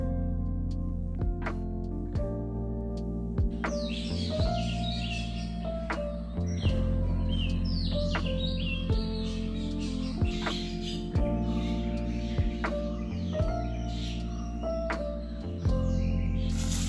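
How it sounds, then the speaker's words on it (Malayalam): Morning birdsong around a home in Kerala, with scattered chirps and tweets of varying pitch over a loud, steady low hum and a repeating tonal background, fairly distant and not dominant. "കിളികളുടെ ഈ ഒരു സൗണ്ടൊക്കെ കേട്ട്"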